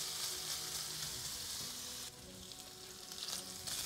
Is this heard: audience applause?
no